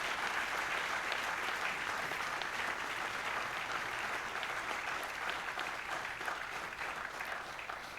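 Seated attendees at a forum debate of African presidents give the organisers sustained applause, a dense, even wash of clapping heard at a distance and fairly faint throughout.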